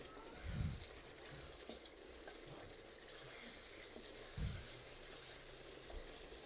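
Chicken korma with yogurt sautéed over high heat gives off a faint, steady sizzle. A spoon scrapes and stirs it twice, with two soft knocks against the pan.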